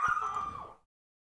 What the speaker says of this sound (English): You have a barking dog in the background.